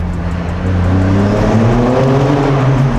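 A modified BMW X3 M's exhaust roars as the car accelerates through a tunnel, its rising growl echoing and booming, steady and close with no talking.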